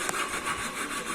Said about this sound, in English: So use this tenon saw.